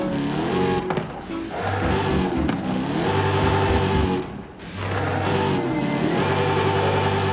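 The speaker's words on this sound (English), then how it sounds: "That sounds the exhaust, the stock exhaust" Dodge Magnum SRT8 with stock exhaust in Forza Horizon 5, its engine revving loudly and close in repeated climbing pulls, with a deep rumble under rising harmonics and brief dips between throttle bursts.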